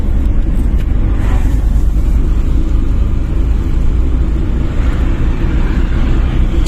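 A car's engine drones and revs steadily in a loud, constant rumble from inside the cabin during a driving lesson, with no talk heard.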